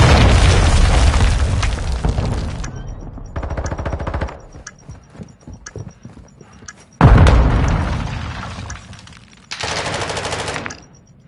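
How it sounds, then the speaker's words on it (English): A cruise missile strike in the Warzone 2.0 video game hits with several heavy, loud explosive blasts and rumbling bursts, separated by quieter stretches of scattered pops and crackles. "Friendly cruise missile inbound"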